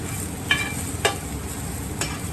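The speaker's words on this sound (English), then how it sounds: "It takes maybe about 4 to 6 minutes tops to cook these mushrooms." Brown mushrooms sear and sizzle in a pan for boeuf bourguignon, a steady close frying hiss broken by three sharp clicks of a utensil stirring against the pan.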